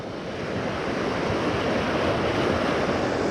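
A river rushing steadily with a broad, constant wash of flowing water, loud and close, with no breaks and no voices.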